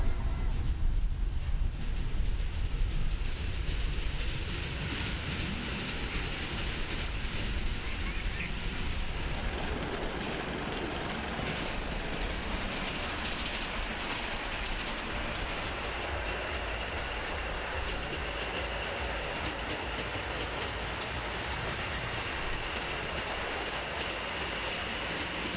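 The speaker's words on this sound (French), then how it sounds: "les trains s'orientent de nouveau en direction de la gare qu'ils pourront rejoindre après avoir franchi un tunnel" A model train crosses a short viaduct of about fifteen metres over a valley, rolling with a steady rumble and rhythmic wheel clatter, louder at first and then settling into an even run.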